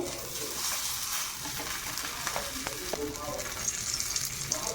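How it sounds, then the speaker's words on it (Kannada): Poha cutlets shallow frying in oil on a tawa give a steady, close sizzle with scattered crackles and pops throughout, no voices. "ಈ ಥರ ಶಾಲೋ ಫ್ರೈ ಮಾಡ್ಕೋಬೇಕು."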